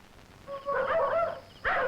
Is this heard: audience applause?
no